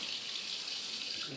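Cold tap water runs steadily into a jug, a continuous bright splashing stream heard close and alone, with no pause across the short span.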